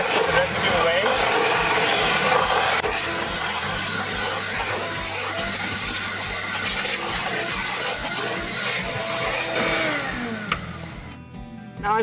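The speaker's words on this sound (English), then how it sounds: "I'm going to use the vacuum and vacuum the rest of the residue away." Vacuum cleaner running over carpet to suck up salt residue, a steady, loud, broadband roar that continues throughout with slight changes as it moves, with a voice speaking over it.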